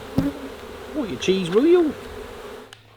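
Honey bees buzz around a beekeeper's hive, a close, steady droning hum with rising and falling pitch as individual bees pass near, heard briefly under a few spoken words.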